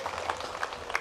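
Brief burst of crowd clapping at a mosque gathering for Isra Miraj, a soft continuous patter of many hands with a few louder claps, fairly distant and even throughout.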